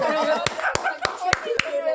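Five evenly spaced hand claps ring out over busy overlapping voices and chatter at an outdoor clay-pot-smashing game with a prize.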